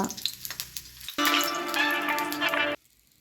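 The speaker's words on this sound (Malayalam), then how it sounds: "ചട്ടി ചൂടാകുമ്പോൾ എണ്ണ ഒഴിച്ച് വാഴയിലയിൽ പൊതിഞ്ഞു വച്ചിരിക്കുന്ന കരിമീൻ" Karimeen (pearl spot fish) wrapped in banana leaf laid into hot oil in a pan, a short quiet start followed by a sudden loud, steady sizzle lasting over a second before cutting off.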